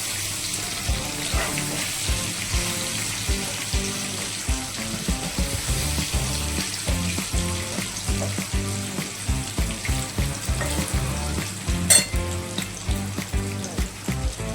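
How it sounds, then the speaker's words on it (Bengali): Steady sizzling of paneer frying in hot oil in a pan, with repeated soft clatters of stirring or pan movement throughout, close and fairly loud. "ততক্ষণ পনিরটা ভাজা হোক"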